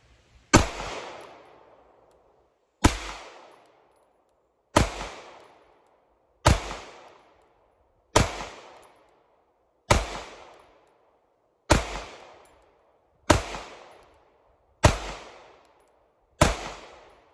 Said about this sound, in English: Let's shoot it some. Let's see if all these magazines work.